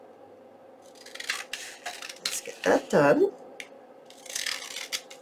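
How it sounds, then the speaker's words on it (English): Scissors cut through two sheets of copy-weight decorative paper, trimming out a junk journal tag, giving a few close, crisp snips in the middle, while someone talks quietly before and after. "I'm going to take my scissors and I'm just going to trim it out"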